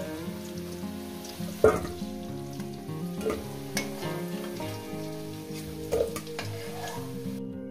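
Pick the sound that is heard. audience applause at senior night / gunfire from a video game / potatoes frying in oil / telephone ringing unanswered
potatoes frying in oil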